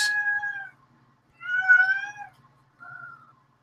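A cat meows three times close by, two longer drawn-out calls followed by a shorter one, with quiet pauses between and no talking.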